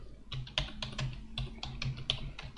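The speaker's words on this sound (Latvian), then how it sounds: "Klikšķinām un rakstām virsmu." Someone types on a computer keyboard while entering a table title, with quick bursts of clicking keystrokes in an irregular rhythm, close and clear with no talking.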